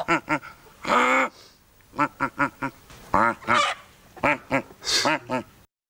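A man imitates a duck with loud, close honking quacks in bursts of several calls separated by short pauses, with no other sound between them.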